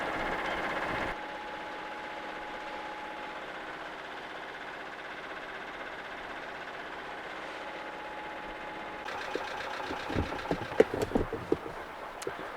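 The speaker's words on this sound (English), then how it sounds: "I'll turn the engine off" A boat engine idles steadily at moderate level in a dock on the Clyde after a run with a strong tide, then handling knocks and clatter rise over it near the end.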